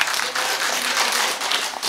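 Steady crowd applause greeting a donation announcement, a continuous even patter of many hands clapping that holds at a moderate level throughout.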